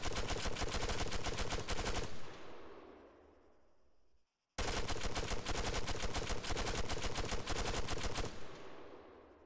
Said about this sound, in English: we're going to start off firing the weapon standing up